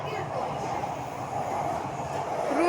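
Inside a Chennai metro train between Washermenpet and Wimco Nagar, a steady rolling rumble with a dull hum fills the carriage, with a brief rising whine at the very end and no clear talk.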